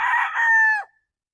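A seven-month-old White Kelso stag rooster gives a single short, loud crow up close, ending in a quick drop-off to silence.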